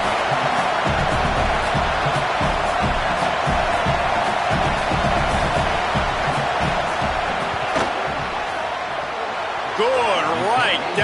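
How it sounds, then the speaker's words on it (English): Loud stadium crowd roaring steadily during a football field goal attempt, a continuous dense wash of noise with a thump near the end and voices audible within it. "This crowd trying to do its part to get inside the kicker's head."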